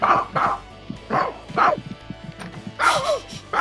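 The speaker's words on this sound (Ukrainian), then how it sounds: "у нас ціла купа собак. Собакам теж класно." Several dogs in The Sims 3 barking in repeated bursts, yips and bow-wows close up, broken by short pauses.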